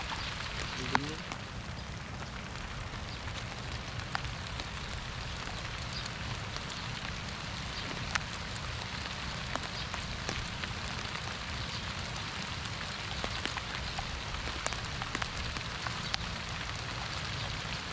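Steady rain falls throughout on a rainy day in Bataan, a dense and even hiss with scattered drop patter, moderately close, with no talk over it.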